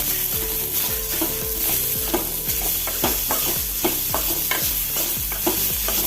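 Chopped tomato stirred and frying in a pan for a coconut chutney, a steady close sizzle broken by repeated scraping strokes of the spoon.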